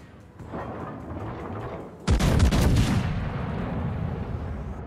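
Heavy battleship main guns fire in a single loud, booming broadside during a naval combat game, with a sharp blast that settles into a long rumbling roll under a continuous engine drone.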